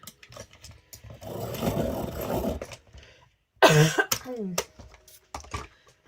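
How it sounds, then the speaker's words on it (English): A person coughs and clears their throat close up, a harsh burst after a stretch of quieter rustling and murmuring. "I do apologise for the coughing."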